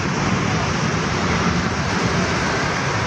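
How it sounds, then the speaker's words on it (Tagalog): Steady roar of traffic and engines at a bus terminal bound for Calamba, a dense, continuous wash of road noise close around. "Ito yung bus terminal na puntang Calamba."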